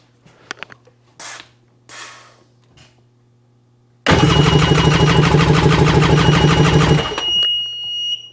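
A 2002 Sea-Doo GTX personal watercraft engine cranks over steadily with the throttle locked wide open in flood mode, a loud rhythmic churning lasting about three seconds and then cutting off, after a few faint clicks and knocks.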